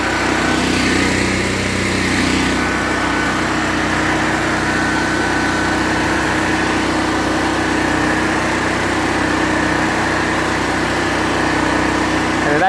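A Generac generator engine runs close by with a loud, steady, unbroken hum and buzz that holds the same level throughout.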